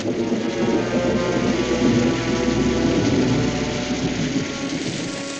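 Heavy rain pours steadily with a deep rumble of thunder rolling underneath, a dense, continuous storm wash with no voices.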